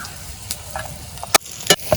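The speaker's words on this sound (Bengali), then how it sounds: "অনেক সুন্দর করে আমি পটলগুলো ভাজা নিলাম" Pointed gourd frying in oil, a brief steady sizzle broken by a few sharp utensil clanks against the pan, close and fairly loud.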